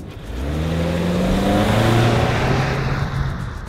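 A 2021 Kia Seltos SUV, a compact crossover with a 2-litre four-cylinder, driving on the road, its engine note rising steadily as it accelerates, loud and close, with no talk.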